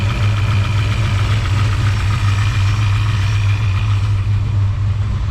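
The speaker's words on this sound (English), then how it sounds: "time to fire it up, let it idle," A car engine idling right after start-up, loud and close with a steady low throbbing rumble and a constant even rhythm throughout, no voices.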